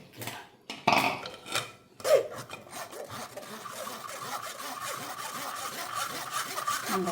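Blended tomato pulp pushed and rubbed through a sieve, a steady close scraping rasp that runs continuously after a few sharper knocks of the utensil against the strainer.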